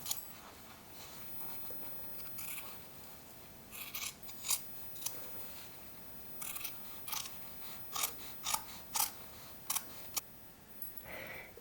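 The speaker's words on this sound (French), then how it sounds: "je vais recouper la propreté de poche à ras du zip sur tout le tour" Scissors snipping a pocket lining flush against a jacket zip during garment sewing, a string of short crisp cuts clustered in quick bursts, close and fairly quiet over a low steady background.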